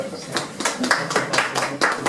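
A small audience at a boxing weigh-in gives a short burst of uneven clapping, with individual claps audible at close range over a murmur of voices.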